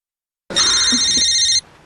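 A telephone bell rings in one continuous burst of about a second, bright and electronic, close by and with no talking.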